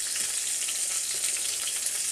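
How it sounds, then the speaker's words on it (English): Steady, close sizzling of pork tenderloin searing in a hot frying pan, a continuous crackling hiss with small pops throughout. "Got that pork tenderloin searing away in that frying pan."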